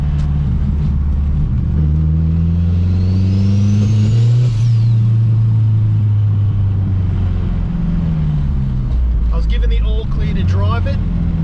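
A turbocharged K-swap Honda Civic engine hums and rises steadily in revs from inside the cabin during a drive, a low drone with a brief high whine, continuous throughout.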